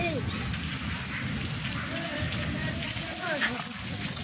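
Steady rain falls outdoors in a rural village setting, a constant close hiss of drops on surfaces, with faint voices underneath.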